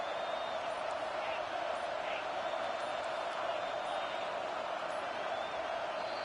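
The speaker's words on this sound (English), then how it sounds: "Decibels rising as the crowd gets behind this defense on 3rd down." A football stadium crowd roars on third down, a dense, steady wash of cheering from a distance, quiet and uniform, with faint whistles and whoops poking through the continuous noise.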